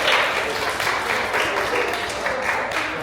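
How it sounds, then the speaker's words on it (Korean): A church congregation at a Sunday worship service claps together in a steady, even round of applause that fills the room for a few seconds, close and moderately loud. "우리 또 태근이 박수 쳐드리겠습니다"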